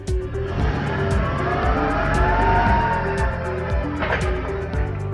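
A truck rolling through an RFID portal, steady engine rumble with a rising and falling motor tone, fairly close and continuous, with a few sharp clicks above it.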